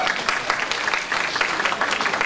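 A crowd at a live show in Noorpur claps in a dense, steady patter throughout, fairly loud and close, with no one speaking over it.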